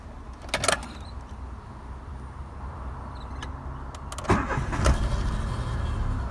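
A warm Daewoo Matiz, its throttle body just serviced, is cranked and its engine catches partway through, moving from quiet clicks and a faint idle hum to a louder, steady running rumble close by.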